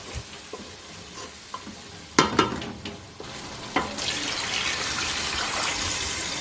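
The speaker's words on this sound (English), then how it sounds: "Now combine everything thoroughly, then add a little bit of water to the mixture." A spaghetti stew base is stirred in a pot, with scraping spoon strokes and sizzling, then a little water is poured in, adding a hissing rush that continues to the end, close and without talk.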